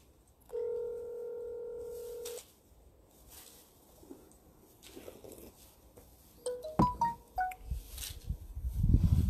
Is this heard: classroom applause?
no